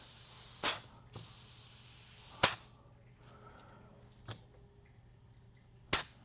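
Compressed air is blown through transmission passages in short, sharp bursts: four or five quick hisses spaced a second or two apart, fairly close, with quiet gaps between them and no speech.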